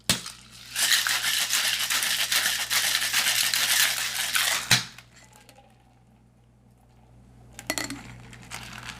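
A cocktail shaker rattles hard for about four seconds with a dense, loud clatter of ice as a bourbon bramble is shaken, then goes quiet, followed by a brief second burst of rattling.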